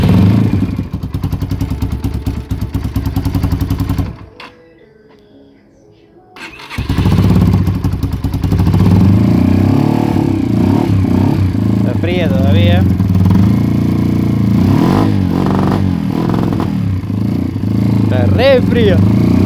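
Modified Yamaha XTZ motorcycle engine with new cable and spark plug runs loud and close, revving and settling after a brief quiet gap, with people talking over it at times.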